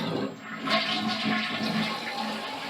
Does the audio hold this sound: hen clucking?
no